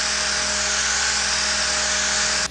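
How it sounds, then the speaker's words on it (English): A power sander works steadily on a car fender flare for a 2022 Subaru WRX, producing a loud, continuous, even whirring hiss that stays close and unbroken throughout. "Sanding and sanding."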